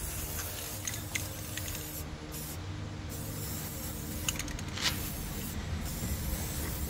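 Spray hissing onto a handmade cement-and-fabric flower pot, a steady close spraying noise with a few stronger bursts over a constant low background hum.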